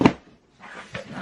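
A Christian Dior box scrapes out of a snug bag in two short rubbing bursts separated by a brief pause, close and fairly loud.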